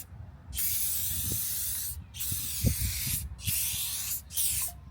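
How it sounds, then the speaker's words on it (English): An aerosol can sprays onto a Tesla wheel and tire in three long, close hissing bursts separated by brief pauses, with faint handling knocks underneath and no talking. "So we're going to spray this on there and let it dry"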